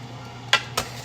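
Two quick metallic clinks of a spoon knocking against a pan while stirring Japanese curry, close by, over a steady low hum.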